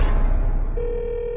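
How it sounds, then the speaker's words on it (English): A telephone rings in a horror movie scene, a low rumbling bed giving way to a sustained steady ring tone that holds loudly to the end, with no talking. "Why's the phone ringing?"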